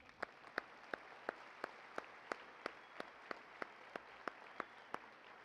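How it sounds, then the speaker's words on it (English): Slow, evenly spaced single claps at a high school graduation ceremony for a guest, about fifteen sharp distinct hits over a quiet, faint background in a large hall. "let's clap for her"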